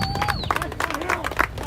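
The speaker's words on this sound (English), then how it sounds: "I want you to give a big round of applause for Fiorella Isabel," Crowd at an outdoor political rally in Washington DC clapping and cheering, a busy burst of applause with shouts mixed in, close and lively throughout.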